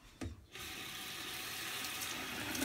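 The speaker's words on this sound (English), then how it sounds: "All right, so now I'm just gonna rinse it off." A bathroom sink tap runs steadily while someone rinses their face in a morning skincare routine, a continuous close hiss of splashing water between brief knocks at the start and end.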